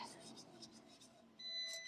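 An oven timer starts beeping with a steady, high-pitched electronic tone partway through, over soft kitchen background noise while baking tater tot casserole.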